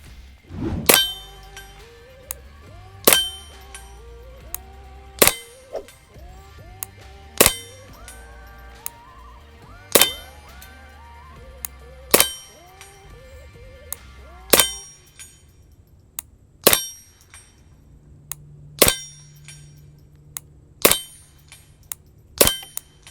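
A .22 rifle fires at a Hammer steel target: about ten sharp cracks, each followed by a bright metallic ring, spaced a couple of seconds apart over a quiet background.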